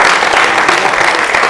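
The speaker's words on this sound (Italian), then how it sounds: "i ragazzi penso che vogliano fare un applauso" Loud, dense applause from young people in an audience honouring a president, a continuous wash of clapping held close and even throughout.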